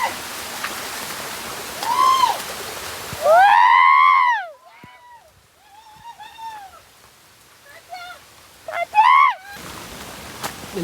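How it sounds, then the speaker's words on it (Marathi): A seaside monsoon waterfall in Ratnagiri gives a steady broadband rush of flowing water, with loud, clear bird whistles and chirps rising over it in bursts. The water noise drops away in the middle and returns at the end. "जो वॉटरफॉलचा फ्लो आहे त्याचा पण आम्हाला चांगला आवाज येतोय"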